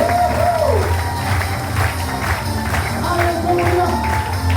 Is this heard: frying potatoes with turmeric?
no